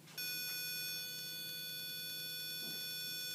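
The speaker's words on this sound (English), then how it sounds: "the speaker will send a sound of 200 Hz" Burglar alarm speaker from a student electronics project sounding an electronic tone that starts abruptly, a steady buzzy beep held close and loud, softening slightly after a second but continuing.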